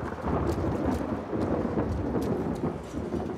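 Steady heavy rain and rolling thunder fill a scene in the video game The Last of Us Part II, a dense, continuous wash of sound with no voices over it.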